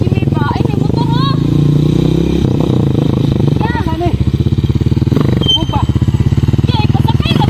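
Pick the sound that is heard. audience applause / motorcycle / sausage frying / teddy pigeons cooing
motorcycle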